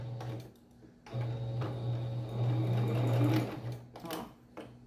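Sewing machine backstitching fabric for a dish towel border or placemat, its motor running in steady humming bursts with brief pauses between, close up, with no speech.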